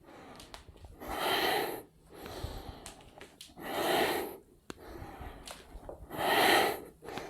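Three long, forceful breaths exhaled in a yoga flow, each swelling and fading over about a second, evenly spaced and close, with no talking.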